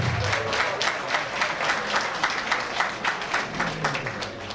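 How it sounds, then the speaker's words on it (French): An audience at an official award ceremony applauds a named honoree, dense steady clapping from a sizable crowd, fairly loud and sustained with a slightly pulsing rhythm, no voices over it. "on l'applaudit s'il vous plaît"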